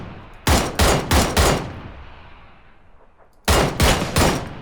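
Four rapid QBU rifle shots in the video game PUBG ring out close and loud in a quick string, a pause with a decaying echo, then another burst of four shots.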